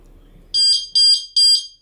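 A Jaws disc lock alarm gives three sharp, loud high-pitched beeps in even succession, each a short double-pulsed tone, close and piercing against near silence.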